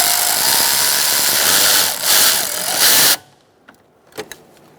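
A power tool tightens a hose clamp on a 2004-2009 Mazda 3 AC condenser with a loud, steady whirring that runs for about three seconds, then cuts out, leaving a few faint clicks.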